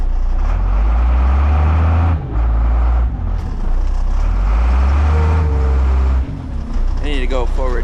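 A truck dumps its load as the bed raises, a loud close diesel engine droning under strain with brief dips, while a person talks over it.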